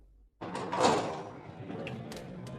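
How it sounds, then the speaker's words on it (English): A tavern door swings open in a story setting, a single clear opening sound rising after a brief silence, followed by a steady indoor room ambience. "At 7 p.m., the door of the tavern opens."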